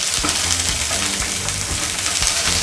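Ingredients for tom khlong with crispy snakeskin gourami being stir-fried in a pan with a little oil, a steady close hiss and sizzle with scraping stirs throughout, no talking.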